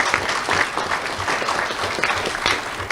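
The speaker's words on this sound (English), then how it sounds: "Let's have a round of applause for everyone." Audience at a school awards ceremony clapping, a dense, steady round of applause close and loud throughout.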